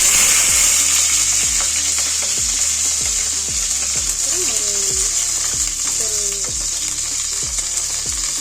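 Groundnut oil sizzles steadily as green chilies fry, with repeated regular tapping knocks and a couple of brief squeaky tones over the hiss.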